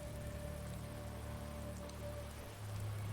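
Steady rain falls in a continuous wash during a tabletop Dungeons & Dragons session, an even hiss holding level throughout with a faint low rumble underneath and no voices.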